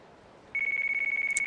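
A telephone rings in the video game Yakuza 3, a steady electronic trilling tone that starts after a short quiet lead-in and repeats in quick pulses, loud and alone.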